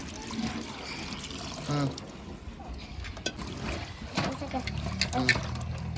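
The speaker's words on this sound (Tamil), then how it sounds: "ஊற்றுமா இன்னும் ஊற்றுமா ஃபுல்லாக ஊற்றுமா தண்ணி" Water is poured into a cooking pot while fish is prepared in a home kitchen, a close trickling and splashing stream that runs beneath people talking throughout.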